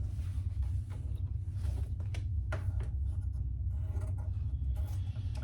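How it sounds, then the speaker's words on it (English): Scissors trim SF101 interfacing while sewing a bag, making soft, close scratchy snips and rustles in short irregular bursts over a low steady hum. "I'm just gonna trim my SF101."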